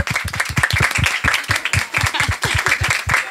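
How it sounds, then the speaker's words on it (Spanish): Clapping from the audience at a Valencian Falla neighbourhood event in Botànic–La Petxina, a steady run of sharp claps over about three seconds, close and fairly loud, with a busy crowd wash behind. "vamos a dar un gran aplauso a la falla media que nos falta."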